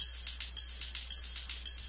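A crisp hi-hat loop at 128 BPM plays back in Bitwig Studio, bright metallic ticks in a steady repeating rhythm, clean and alone.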